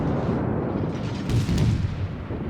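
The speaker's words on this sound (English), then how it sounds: "let me get one more salvo like that" Cruiser Montecuccoli, a tier-5 Italian cruiser in World of Warships, fires a gun salvo: dense rumbling booms merge into a steady roar, with a heavier swell in the middle, loud and continuous, no voices.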